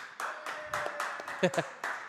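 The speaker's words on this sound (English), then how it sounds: "Round of applause." A few scattered claps from a small studio audience at a Sam Houston athletics coaches radio show, brief and sparse, mixed with a speaking voice nearby.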